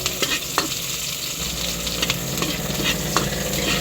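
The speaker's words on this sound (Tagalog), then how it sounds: "Ayan po, nagsisimula na siyang maggisa." Ingredients for pansit habhab sauté in a pan over a wood fire, a steady loud sizzle with scattered scraping stirs close by.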